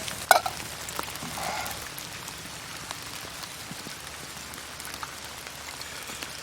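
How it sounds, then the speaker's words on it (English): Rain falls steadily on a cold, windy January morning outdoors in Land Between the Lakes, Tennessee, a dense even patter with a few louder nearby drops and thumps at the start. "not only is it 40 degrees and raining, we've got some wind going on too"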